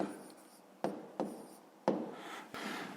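Pen or marker writing on paper during a 5th-grade maths lesson, producing a quiet, close scratching and rubbing with several sharp stroke onsets and sustained scribbles, no talking.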